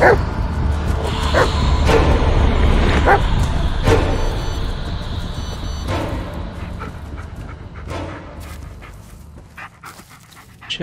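A dog in the Blair Witch video game barks, yips and pants repeatedly, near and fairly loud, with sharp barks spread across the span over a low ambient rumble.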